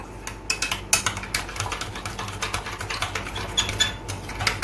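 Ketchup and brown sugar stirred together for BBQ sauce, a spoon clicking and scraping against a bowl in a quick, steady rhythm of light taps, close and fairly quiet.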